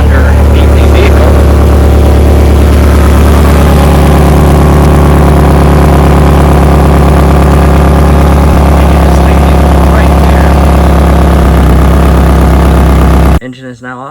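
A car engine with a leaking flex pipe exhaust idles close by with a steady low rumble and a rough, puffing exhaust pulse, running evenly before stopping abruptly near the end.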